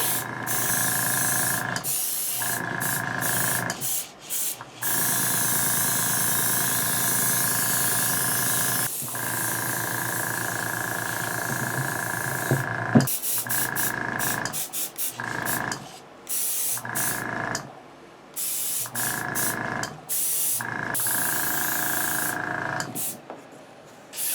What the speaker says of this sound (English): So we're going to be using flat black Tamiya in my high velocity airbrush.